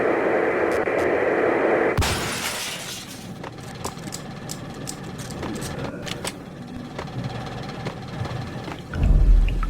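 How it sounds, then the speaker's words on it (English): A winter thunderstorm pounds a city in the game Max Payne: a sudden loud thunder crack breaks in, then rain patters and crackles under low, distant rumbling, with a deep swell near the end. "The worst winter storm in recorded history continues to pound the city"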